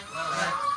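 Waterfowl call out from a mixed group of geese and ducks at a pond: a single drawn-out, nasal honk held for under a second, moderately close and unaccompanied by speech.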